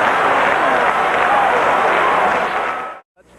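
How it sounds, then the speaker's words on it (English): Packed basketball arena crowd, loud and continuous, cheering and applauding as one roaring wash of noise before it cuts off abruptly. "this is the noisiest crowd that we will have in here tonight"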